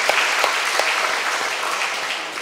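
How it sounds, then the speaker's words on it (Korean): A church congregation of children, teachers and adults claps together at a Sunday worship service, a dense, even burst of applause with no voices. "박수."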